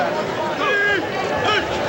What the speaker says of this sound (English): The crowd yells draw.